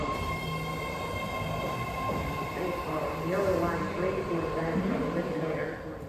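A large broad-gauge BART subway train rolls past on its tracks, a steady rumble with a rising metallic whine and squeal that swells near the middle. A person talks over it.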